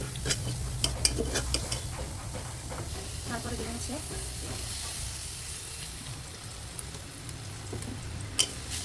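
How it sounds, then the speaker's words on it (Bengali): Onions browning in oil in a wok give a steady broadband sizzle throughout, with occasional stirring clinks and a soft voice speaking briefly over the cooking noise. "তেল দিয়ে পেঁয়াজটাকে ব্রাউন কালার করে ভেজে নেব"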